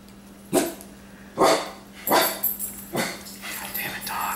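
A dog barks in the room, five or six sharp barks spaced about a second apart, loud and near over a low background hum.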